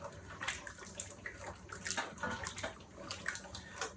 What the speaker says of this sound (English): this is just starting to come to a boil. All right, let's see a little simmer there